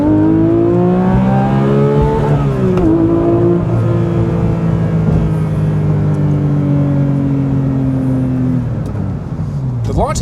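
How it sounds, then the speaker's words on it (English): A Porsche 911 GT3 with Manthey Racing parts launches hard from a stop, its engine note climbing loud and close through the revs, dipping briefly at a shift, then rising again to the end. "The launch isn't that crazy in this car"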